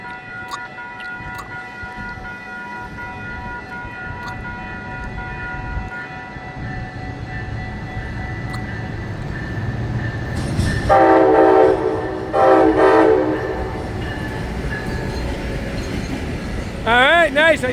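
A Brightline passenger train rolling through Fort Lauderdale, a steady low rumble of moving cars that continues throughout, with the horn blasting loudly in two bursts partway through and another short blast at the end.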